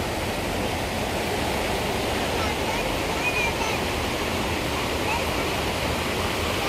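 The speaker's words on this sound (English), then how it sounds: "the water is flowing down to the town of Ramsau" Water rushing steadily in a stream near Lake Hintersee in Bavaria, Germany, a loud continuous broadband wash with no breaks, heard close and alone.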